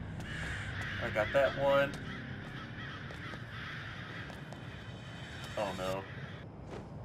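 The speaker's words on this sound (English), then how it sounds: "I'm sorry if I scare off any of your pet crows, Foxy." Crows cawing in the video game FNAF Special Delivery, several harsh repeated caws in two bursts over a steady background hum, with a person talking briefly.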